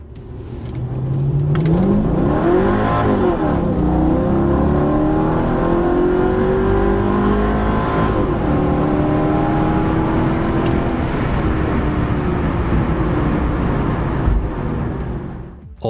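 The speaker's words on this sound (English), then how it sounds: "The wagon really drives a lot like the sedan, just with some extra weight which you might feel in the corners." A Mercedes E55 AMG wagon accelerates hard, and its engine note climbs through several rising sweeps as it pulls through the gears. It is loud and sustained, with a steady drone between the revs and no talk.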